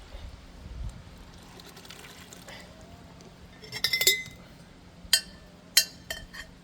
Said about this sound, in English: When you get closer to the end, pour it faster so those chunks come out.